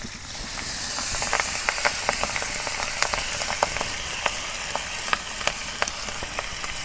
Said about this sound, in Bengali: আমি বিরিয়ানি চালগুলো ভালো করে নাড়াচাড়া করব।